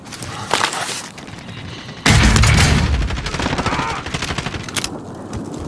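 Gunfire in the video game Call of Duty: Warzone: a loud, sustained automatic burst erupts midway, with scattered shots and rattling in the game mix before and after it.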